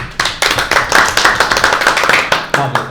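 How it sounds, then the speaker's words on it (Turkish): A studio audience claps for a guest being welcomed on a Turkish entertainment show, close and loud, with sharp rapid hand claps that run steadily for about three seconds and stop abruptly near the end. "Alkış."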